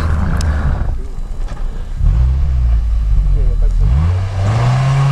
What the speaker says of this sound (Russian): Вот, значит, мощь двигателя, да, Виталян?